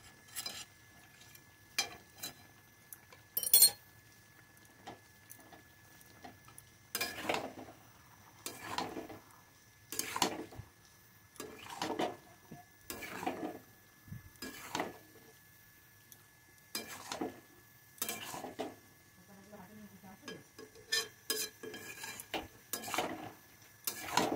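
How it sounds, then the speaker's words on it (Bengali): Ghee and garam masala being stirred into a finished dish, a spoon scraping and clinking against the pot in repeated short strokes, fairly close and moderately quiet with brief pauses between bursts. "এখন আমি এটা ভালো করে নাড়াচাড়া করে নেব।"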